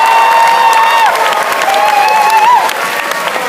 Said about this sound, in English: a great round of applause for all our choral, instrumental, and orchestra directors